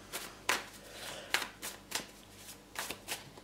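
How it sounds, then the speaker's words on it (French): Tarot cards are shuffled by hand, several crisp riffling swishes in an irregular rhythm, close up and alone. "Alors on mélange d'abord ses cartes."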